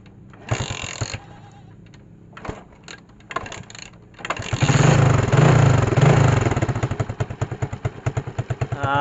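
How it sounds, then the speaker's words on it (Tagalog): A motorcycle engine running with its battery removed: a few clicks and short cranking attempts, then the engine catches and runs with a loud, steady, rapid putter close up. "umaandar na po siya kahit walang battery"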